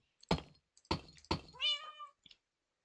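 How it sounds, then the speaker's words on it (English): In a hardcore Minecraft survival game, sharp blocky thuds strike three times, then a cat gives a clear, rising meow close by, followed by a faint click. "The cat is just hanging up here."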